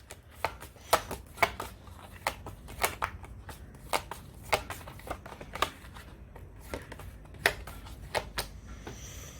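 Tarot cards being shuffled and drawn close up, a run of quick, crisp flicks and snaps in loose bursts with a faint background hum.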